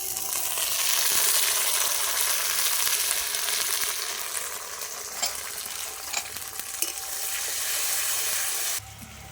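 A paste of ground coriander, cumin, ginger and dried chilli fries in oil with chopped garlic for egg biryani, giving a loud, hissing sizzle that eases slightly and then drops off sharply near the end.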